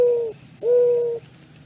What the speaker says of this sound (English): Very classic mourning dove sound.